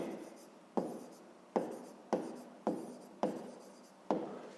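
Pen or chalk writing by hand during a sixth-grade math lesson: a steady series of about seven scratchy strokes, each starting sharply and trailing off, close and fairly quiet with no talk.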